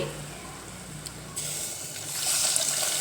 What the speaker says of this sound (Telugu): వాటర్ యాడ్ చేసుకోండి